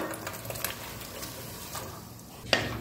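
Marinated bottle gourd being stirred into boiling water, a faint bubbling hiss with light scraping stirs and a sharp clink of a utensil near the end.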